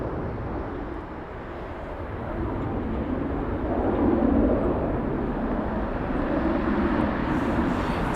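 DHL Airbus A300 freighter at London Heathrow, a broad steady jet engine roar at a distance that swells gradually as the aircraft passes, no voices.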